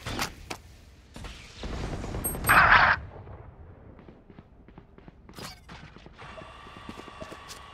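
Sova's dart shot in Valorant on the Split map: a loud mechanical whoosh and burst builds for about a second, then fades into scattered clicks and clanks, with a sustained electronic hum near the end.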